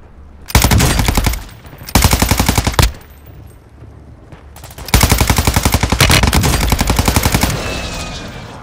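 Automatic gunfire in Call of Duty Warzone Resurgence comes in three loud bursts: a short one, a second short one, then a long sustained rattle that slowly fades, with quieter gaps between them.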